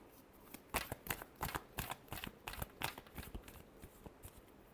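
Tarot cards are shuffled by hand in a quiet room, with a rapid string of crisp, close riffling snaps in uneven bursts and no talking.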